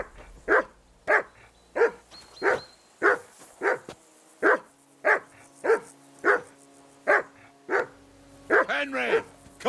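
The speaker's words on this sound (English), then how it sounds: "Call off that damn dog before he wolfs down the last of our mates." A dog in the video game Kingdom Come: Deliverance II barks about a dozen times in a steady, evenly spaced rhythm, loud and close, ending in a rapid flurry of yips.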